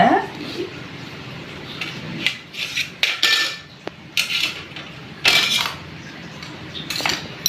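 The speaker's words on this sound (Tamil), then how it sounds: "இந்த மாதிரி நடுவாண்டை இப்படி கட் பண்ணிக்காங்க" A knife cuts through a ripe molampalam fruit at its middle, giving a few sharp clinks and scrapes against a hard surface, with brief bursts and quiet gaps between them.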